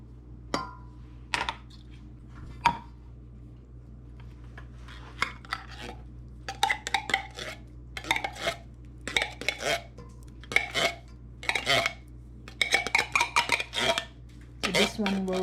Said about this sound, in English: Here I cut the Vienna sausage,